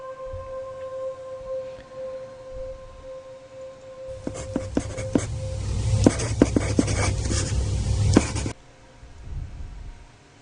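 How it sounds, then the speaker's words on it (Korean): Pen scratching across paper, a run of quick, close strokes and taps lasting several seconds in a quiet room, alone without talk. "그렇게 우린 필담을 시작했다."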